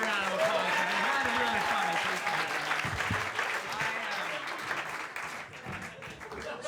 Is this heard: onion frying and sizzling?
no